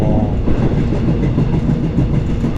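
The Baekdudaegan canyon train runs with a steady, loud rumble and rhythmic rail clatter, heard from inside a carriage with open windows and no talk.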